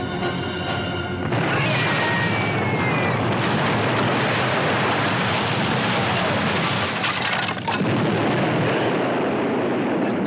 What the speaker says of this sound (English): My God, it's a bomb.